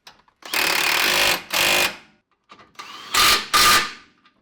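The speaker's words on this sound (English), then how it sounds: "So now I've zapped in these bolts with my rattle gun." Rattle gun tightening suspension bolts on a Suzuki Jimny during a steering damper upgrade, four sharp buzzing impact bursts in two pairs with brief silences between, close and loud.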